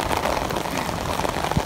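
Heavy rain pours steadily in Al Ain in the UAE, a dense continuous hiss of drops drumming on surfaces, close and loud throughout with no break.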